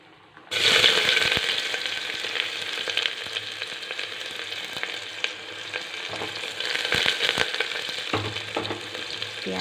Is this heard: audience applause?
no